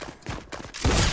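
Gunfire in a video game cracks out in a quick series of sharp, loud bursts, ending in a heavier blast that nearly fills the short moment.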